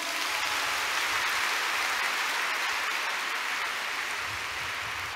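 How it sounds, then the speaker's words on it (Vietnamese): A church congregation at a Catholic Mass applauds for an elderly prize winner, a dense, steady wash of clapping that holds at full strength throughout, with no voices over it. "Một tràng vỗ tay."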